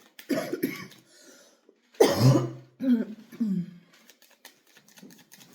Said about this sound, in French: Et je tousse encore.